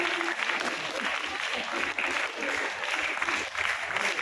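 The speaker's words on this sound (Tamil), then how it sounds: "ஆசிரியர்களுக்கு பலத்த கரகோஷம் இருக்குமாறு அன்போடு கேட்டுக்கொள்கிறேன்." Sustained applause for teachers at an Independence Day school function, steady clapping from a gathered audience filling the whole stretch with no pauses.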